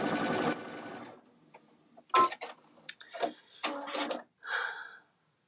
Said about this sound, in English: I'm also back stitching at the seam,